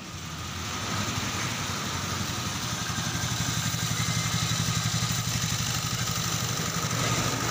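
A Honda Vario Techno 125 scooter engine idles steadily close by, a continuous low running hum with a faint rapid clatter that holds level throughout, with no talk.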